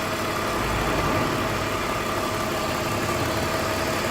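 A 2002 BMW 320i engine idling while it warms up, a steady, loud, even rumble close by with no change in pitch throughout and no voices.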